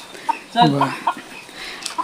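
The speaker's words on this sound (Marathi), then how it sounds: "सर्व पक्षी आपोआप आतमध्ये गेलेले आहेत" Chickens on a poultry farm give a few short clucks and soft calls close by, in brief bursts over a quiet background, with a human voice briefly mixed in.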